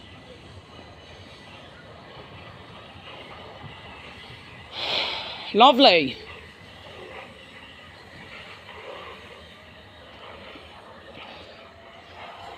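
A train passes an MCB level crossing, its brief loud rush and rumble swelling and fading over a couple of seconds amid quiet outdoor background, with a short spoken remark.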